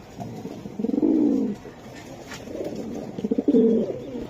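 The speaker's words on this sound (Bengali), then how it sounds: "এই যে দেন রেড চেকার কবুতর" A red checker pigeon cooing up close, two bursts of deep throaty rolling coos separated by a short pause, loud and clear against quiet background.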